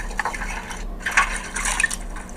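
Water being played with, splashing and trickling in light, irregular bursts, close and moderately loud over a steady low hum.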